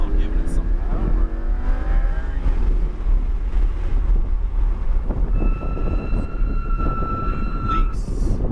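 A car engine revs under power while rolling down a hill, its pitch rising and falling through the gears under heavy wind buffeting, with thin tonal whines later.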